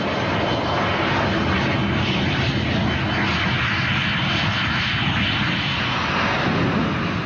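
Gloster Meteor, Britain's first operational jet fighter, roaring steadily as it flies, a broad continuous engine rush with no break or rise across the whole stretch.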